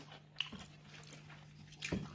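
Fried papad is bitten and chewed in a quiet room, with two faint, brief crunches about a second and a half apart over low background hum.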